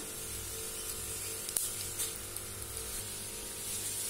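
Urad dal and cumin sizzle in hot oil while a snake gourd seed chutney is tempered, a steady close hiss with a few small pops and no talking.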